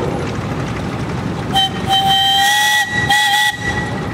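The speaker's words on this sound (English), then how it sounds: "All right, John, you got a whistle." A loud, sustained whistle blows from a scale steam traction engine at a steam threshers' show, rising into a steady multi-tone blast with a hissing edge, then briefly breaking before sounding again over outdoor crowd noise.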